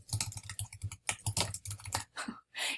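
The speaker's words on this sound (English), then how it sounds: "I can't type and talk." Fingers type quickly on a computer keyboard, close and clear, in rapid uneven bursts of clicking keystrokes broken by short pauses.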